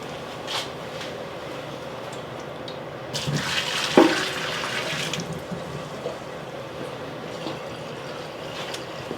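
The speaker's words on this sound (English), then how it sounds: "We're going to dump the water out." A brief splashing pour of water dumped out of a pan around the middle, rising then trailing off, over a quiet background of faint clatter.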